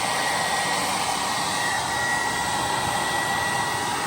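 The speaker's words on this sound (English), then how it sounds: "you gotta get a heat dryer or a heat gun or something, hair dryer, and get this hot" A hair dryer heating a part during a car intake install on a Hellcat blows steadily and loudly at close range, a constant rushing whir with no change in pitch and no voices.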